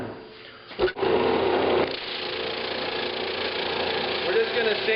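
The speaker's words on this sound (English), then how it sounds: "We're just going to sand right through that glue." A drum sander grinds through dried glue on end grain wood, a steady loud machine whir that starts after a brief thump near the start and holds close and continuous.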